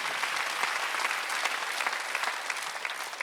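A church congregation at a Korean Sunday worship service claps together during the sermon, dense and even, the sound sustained throughout without a break.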